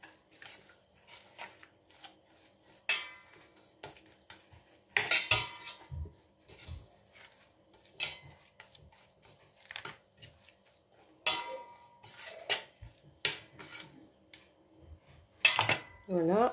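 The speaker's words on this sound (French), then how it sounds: "On mélange." Metal spoon scraping and clinking against a pot while oil, water and ingredients for a lamb tagine with prunes and almonds are mixed, in irregular bursts with talk in the background.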